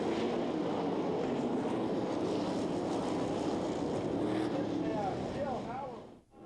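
A pack of 360 sprint car engines at the Knoxville Nationals roars as a steady, loud, blended drone, engines passing and fading near the end, with a faint announcer voice beneath.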